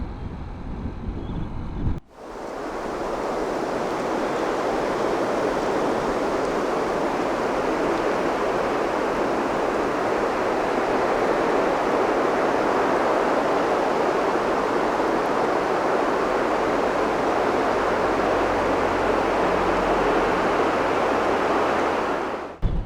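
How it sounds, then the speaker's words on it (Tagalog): Strong wind roars across the microphone during a stormy ride on a Kymco Like 125 Italia scooter, a loud steady buffeting rush that sets in abruptly and holds for about twenty seconds before cutting off. "lakas ng hangin"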